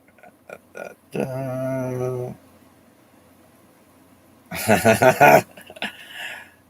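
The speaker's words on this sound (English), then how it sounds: "here's Craig's dog" A dog whimpers and whines in a long drawn-out tone, followed later by a burst of higher yelping cries, close and clear in a quiet room.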